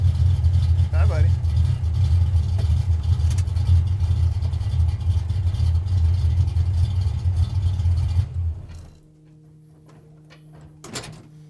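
A Jeep engine runs close by with a loud, steady low rumble that cuts off near the end, leaving quiet with a few small knocks; a voice speaks briefly over the engine.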